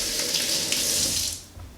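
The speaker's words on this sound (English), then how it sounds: "we're just going to wash our hands real quick like." Kitchen tap running steadily into a sink while hands are washed, a close, hissing water stream that fades out near the end.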